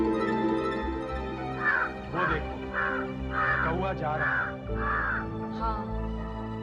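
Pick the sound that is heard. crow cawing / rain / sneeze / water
crow cawing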